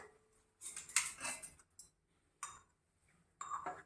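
Diamond rock sugar (kalkandu) tipped into a cooking pot for akkaravadisal, bursts of hard crystals clinking and rattling against metal in three short spells separated by quiet.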